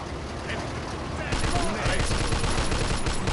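Sustained gunfire from the Mafia II video game, a dense rattling of rapid shots that grows louder partway through, with voices talking underneath the shooting.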